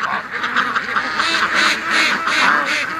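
A flock of panicking ducks quacks loudly and rapidly at close range, overlapping calls coming in bursts as the birds get flustered around a dog walking among them.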